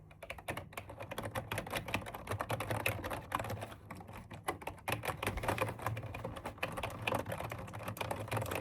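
Continuous rapid clacking of Logitech computer keyboard keys, close up and busy, with no voices.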